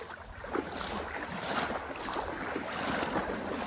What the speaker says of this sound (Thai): น้ำเชี่ยวนะคะ